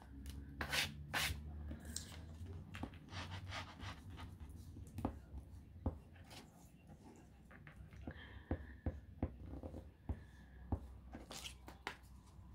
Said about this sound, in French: On en a 4 à gommer.